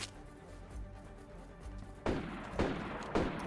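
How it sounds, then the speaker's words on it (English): Gunfire from players shooting zombies in the survival game DayZ: a low background rumble, then three loud, sharp shots after about two seconds, spaced roughly half a second apart. "there feels like a lot of shooting still. They're shooting zombies, I believe."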